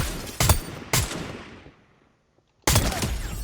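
Gunfire from a weapon in a video game: loud, close shots that ring out and decay, a brief near-silent gap, then another sharp burst of fire.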